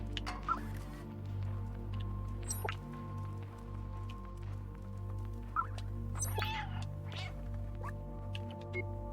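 A cat in the video game Stray gives a few short meows over a constant low game hum, with soft clicks and drips scattered through.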